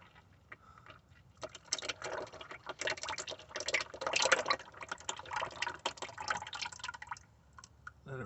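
Engine oil drains from the sump of a Range Rover 4.4 SDV8 into a container, a soft close-up trickle and splatter that begins faint, thickens into a steady pour, then tapers off.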